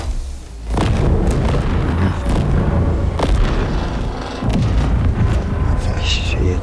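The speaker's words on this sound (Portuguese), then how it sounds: "Cheio até as explosões" Heavy in-game explosions and weapon fire boom and rumble almost nonstop during a Halo Infinite co-op campaign on Legendary difficulty, loud and close with deep low-end, and players talk over the blasts.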